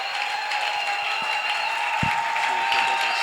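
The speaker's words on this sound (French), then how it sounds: "on acclame pour le Seigneur" Applause from a congregation at an evangelical church service, a steady wash of clapping throughout with a tonal hum and murmured voices beneath.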